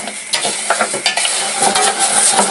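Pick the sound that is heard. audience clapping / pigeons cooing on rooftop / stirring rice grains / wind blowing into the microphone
stirring rice grains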